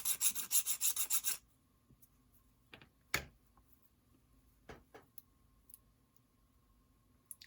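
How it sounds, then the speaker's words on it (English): Hand filing of an angled metal wedge for an HO scale model steam locomotive kit, a quick run of about nine even rasping strokes up close, then quiet with a few faint taps and clicks. "I'll just file a little bit here and there."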